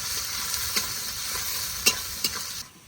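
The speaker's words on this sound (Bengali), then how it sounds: "পেঁয়াজটা একটু ভালো করে ভেজে নেব।" Chopped onions fry steadily in hot oil with black cumin and dried chillies for a village-style Bengali dish, giving a continuous bright sizzle with a few sharp clicks of stirring near the end.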